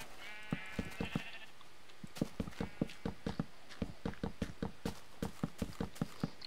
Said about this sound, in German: Wir haben die Schafe drum.